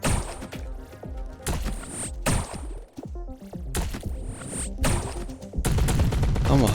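Gunfire in the video game Grapples Galore comes as bursts of rapid shots and thuds with short pauses between volleys, punctuated by sharp impacts and dense game effects, moderately loud and without speech.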